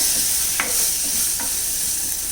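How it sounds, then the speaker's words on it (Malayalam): Tomatoes cook in a hot pan for a tomato curd curry, making a loud, steady sizzle with a couple of soft stirring scrapes, close and continuous. "ടൊമാറ്റോ കുറച്ച് സമയം കൂടെ വേവട്ടെ"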